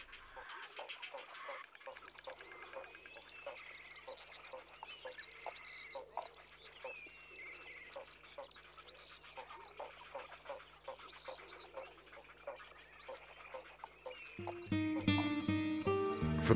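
A nesting colony of spoonbills and egrets in Doñana National Park, Spain, fills the air with a dense, steady chorus of croaks, clucks and calls, faint and layered, before music rises near the end.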